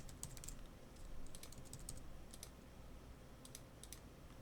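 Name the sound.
typing on a computer keyboard writing a blog post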